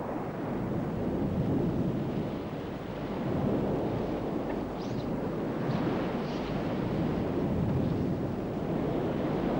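A sailing yacht cuts through open ocean water under trim at speed, a steady broad rush of surf and spray with wind buffeting the microphone throughout, loud and continuous with no voices.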